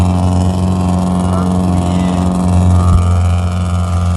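Lada Niva engine droning and revving hard as the car drives through a river, loud and close throughout with a steady low rumble, while people shout over it.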